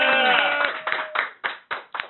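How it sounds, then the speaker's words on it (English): Audience applause voting for a contestant at a live comedy radio show: a brief swell of clapping that quickly thins to a few scattered, separate claps fading out. "everybody who'd like to vote for Padraic, I want to hear your applause."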